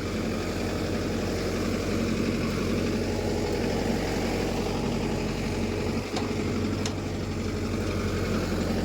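A Mahindra Yuva Tech+ 585 tractor works under load while pulling a nine-tine plough through a field. Its engine gives a steady, continuous low rumble throughout, with no talk.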